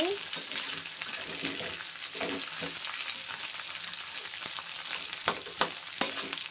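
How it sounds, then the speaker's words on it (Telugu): Garlic, coriander seeds, chana dal and ivy gourd frying in a pan, a continuous close crackling sizzle with occasional sharp spoon clinks and scrapes toward the end, with no talk. "ధనియాలు, పచ్చిశనగపప్పు, గుళ్ళు, దొండకాయ, ధనియాలు అన్నీ బాగా ఫ్రై అవ్వాలండి"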